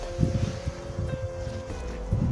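Low, blustery wind rumbles against the microphone in uneven gusts, with faint rustling in the background and no clear talk.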